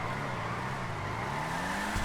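Karin Hotring Everon, a NASCAR-style race car in GTA 5 Online, roars with a steady, loud engine drone as its tires spin, the tone holding near-constant throughout.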